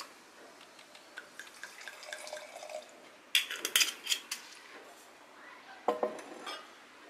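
A 2011 d'Arenberg red wine bottle being opened and poured, with faint clinks, a burst of glassy knocks and trickling liquid, quiet and close.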